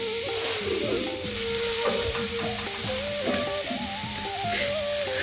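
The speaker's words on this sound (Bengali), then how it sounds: "ডালিয়াটা ভাজার পর নারকেলটা দিয়ে দিচ্ছি একটু গুড় দে গুড় দেবো একটু নেড়ে নিই" Fried dalia being stirred with coconut and jaggery in a pan, giving a steady sizzle under repeated scraping strokes of a spoon against the metal, close and continuous.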